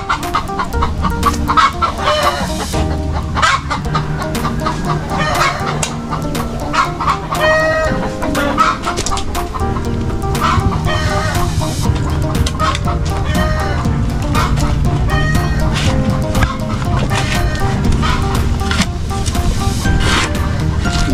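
Several chickens cluck and a rooster crows amid busy farmyard noise, loud and continuous throughout.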